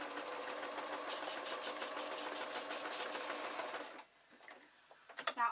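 A sewing machine stitches a soft toy bat in a fast, steady whirring run that stops abruptly near the end, followed by a few faint handling knocks.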